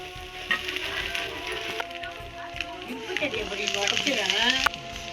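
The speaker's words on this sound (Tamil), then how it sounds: "இதில் வந்து நமக்கு தேவையான சாப்பாடை போட்டு கிளறிக்கலாம்." Cooked rice stirred into scrambled egg in a hot pan, giving a steady close sizzle with scraping strokes that grow busier toward the end.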